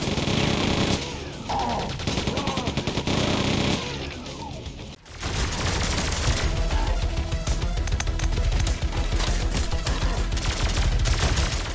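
Dense, loud gunfire and explosive blasts from a fast-paced boomer shooter game with railguns and rocket launchers, rapid bursts nearly continuous apart from a short drop before the firing resumes at full intensity.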